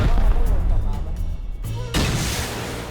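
Gunfire and explosive booms from the survival game Rust crack in a rapid burst, then a sharp louder blast hits near the end; excited voices chatter over the shooting.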